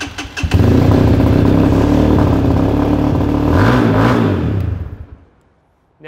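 A Moto3 motorcycle engine fires up and revs under throttle, a loud, close, rough mid-pitched roar holding steady with a rising rev partway through before cutting off into silence.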